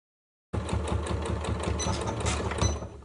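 Close, steady sewing machine stitching along a tote bag strap, with a clear fast rhythmic needle beat running continuously after a brief silent start.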